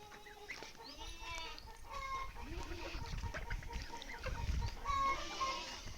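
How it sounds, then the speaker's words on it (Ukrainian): Several chickens cluck and murmur nearby at low volume, with scattered squawks and soft scratching sounds. "Так, тут мої кури."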